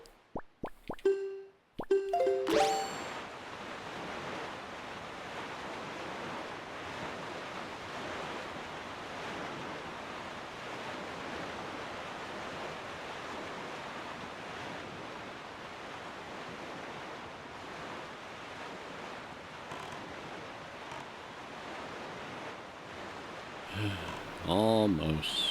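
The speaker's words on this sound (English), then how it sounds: "Well, I see the splashes already." Water splashes and rolling waves in a goose video game, a steady broadband wash running for most of the stretch, with a few sharper plops near the start and brief game sounds toward the end.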